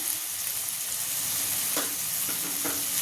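Potatoes, onion and peas sizzle in a hot pan for fried rice, a steady loud frying hiss throughout with a few brief clinks of stirring near the end.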